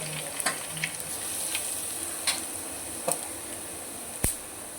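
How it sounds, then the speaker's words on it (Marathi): Garlic and asafoetida fry in hot oil alongside curry leaves for a spicy drumstick curry, making a steady soft sizzle broken by a few sharp clicks and spatula knocks. No one speaks. "लसूण छान तळून घेऊया. त्यामध्ये हिंग टाकूया."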